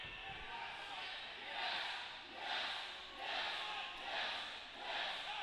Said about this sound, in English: A very familiar chant rings out